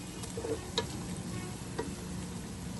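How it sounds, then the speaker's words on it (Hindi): Onions softening and browning in a pan make a low, steady sizzle, with a few faint scrapes and taps from stirring. "प्याजों को जो है हल्का सा हमने ब्राउन करना है"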